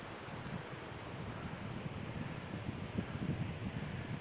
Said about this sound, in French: désolé si vous entendez le vent